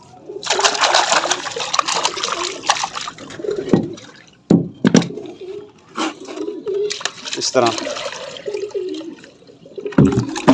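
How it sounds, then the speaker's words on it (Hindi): Fresh water splashes and gurgles as it is poured into a container in a pen with pigeons and goats, while pigeons coo nearby and someone talks over the pouring. "इसमें ताज़ा पानी डालेंगे।"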